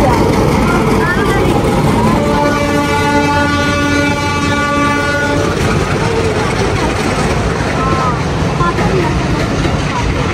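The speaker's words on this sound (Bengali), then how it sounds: "মালগাড়ি আসছে" A freight train carrying stone rolls past at close range, a loud continuous rumble and rattle of wagons with a horn blast partway through, steady to the end.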